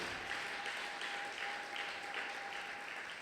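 A church congregation applauds at a Sunday thanksgiving worship service, a steady wash of many hands clapping, fairly quiet and heard from a distance, with no voices over it.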